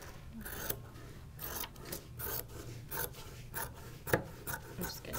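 Scissors cutting through fabric for a sewing pocket piece, a series of close, crisp snips and rasping slides repeating in an irregular rhythm, with no speech.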